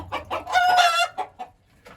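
Chickens cluck and squawk loudly in a farm coop, with a drawn-out agitated cry in the middle and a few short clucks after, close by and without talk.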